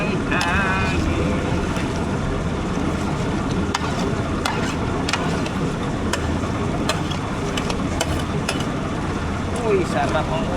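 Wind blowing steadily across the microphone outdoors during a meal of tanigue fish, a constant rushing roar with occasional thumps and clatter.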